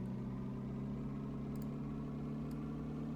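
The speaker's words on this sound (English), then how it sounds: "Oh, there's a car noise." A car engine hums steadily from the Professor Layton and the Curious Village video game, a constant low idling drone with no talking and a couple of faint clicks.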